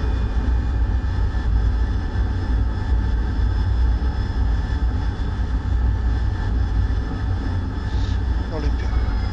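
An AV-8B Harrier jet idling with its engine running in the DCS flight simulator, a loud steady turbine roar and whine held without break throughout, with a thin high tone layered on top.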